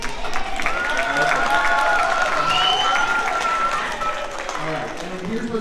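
Steady applause and cheering from an audience at a karate belt awards ceremony, dense clapping mixed with raised voices and whoops throughout.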